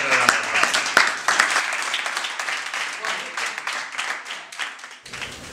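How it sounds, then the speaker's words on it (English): Audience applause at a Sudanese youth gathering against tribalism and racism, a dense, steady wash of many hands clapping close by for several seconds, with voices mixed into the crowd noise. "Let's give each other a round of applause"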